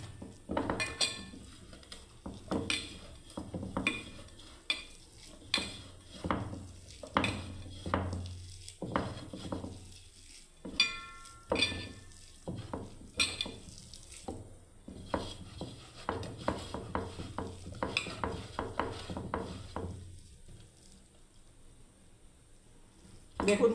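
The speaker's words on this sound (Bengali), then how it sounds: "এবার আমি মাখি ভালোভাবে বেসনটাকে" Gram flour (besan) batter is mixed by hand with onions in a bowl, giving repeated soft, wet squelches and occasional clinks of the bowl in a quiet kitchen.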